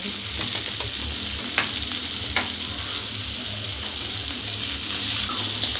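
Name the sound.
onion and garlic frying in oil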